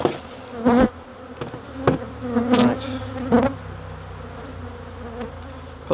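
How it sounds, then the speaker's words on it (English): Angry honeybees buzz loudly around an opened hive during requeening, close insect drones rising and sweeping past in repeated surges over a steady background hum. "Stop these flying bees from getting to me."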